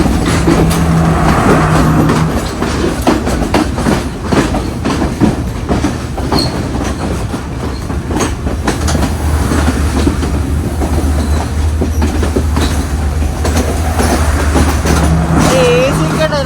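A Sri Lankan Railways train on the coastal line, just out of Maradana station, rumbles along with a loud, steady clatter of wheels and carriage noise, with voices murmuring underneath.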